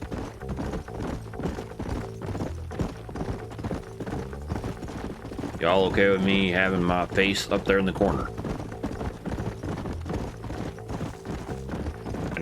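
A horse's hooves clip-clop at a steady trot in the Xbox 360 game Red Dead Redemption. The rhythmic, even hoofbeats run throughout beneath someone talking, with a brief louder passage of game sound in the middle.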